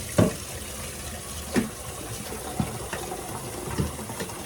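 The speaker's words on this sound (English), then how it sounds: "So let me put some water in here" Tap water runs into a container in a steady broadband rush, close by, with a few soft thuds and no talking.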